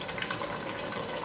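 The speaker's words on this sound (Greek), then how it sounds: "Το νερό είναι έτοιμο, βρασμένο. Προσθέτουμε λίγο." Freshly boiled water pours from a kettle into soy pasta in a home kitchen, a short close gush of liquid splashing and filling, steady and moderately loud.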